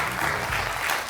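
Studio audience applause on a Rustavi 2 television comedy contest show, a dense, steady wash of many hands clapping that carries evenly through the whole short stretch with no voices on top.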